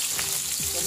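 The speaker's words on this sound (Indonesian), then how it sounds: "Tumis bawang merah yang sudah dirajang." Chopped shallots sauté in hot oil for an Indonesian chili sambal, giving a steady, loud close sizzle and crackle that fills the whole moment without a break.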